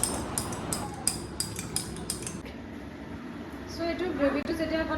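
A spoon taps against a drinking glass in a home kitchen, about seven quick, bright clinks in a steady rhythm, followed by a voice and kitchen noise.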